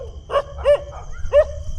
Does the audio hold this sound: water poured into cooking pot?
no